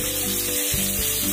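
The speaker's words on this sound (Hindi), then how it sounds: "उसके बाद हम उसमें प्याज डालेंगे।" Chopped onion hitting hot oil in a pan while making poha: a brief, bright, close sizzle that holds steady with faint stirring movement underneath.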